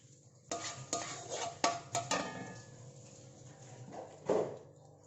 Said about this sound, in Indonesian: Kita tumis bumbunya terlebih dahulu.